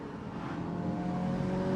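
Audi TT Roadster, 2016 third generation with 227 brake horsepower, accelerating hard as a steady engine drone builds through the gears, heard from the cabin at moderate level with no talking.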